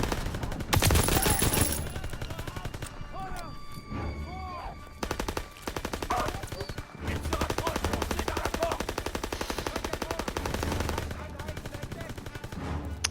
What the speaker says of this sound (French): Une MG42.